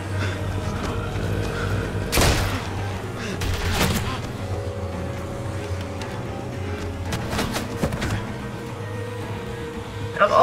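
Scattered gunshots crack out a few seconds apart in The Walking Dead Telltale game, sharp and fairly close, over a continuous rumbling game ambience with some talk.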